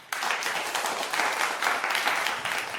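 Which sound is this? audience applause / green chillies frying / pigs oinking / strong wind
audience applause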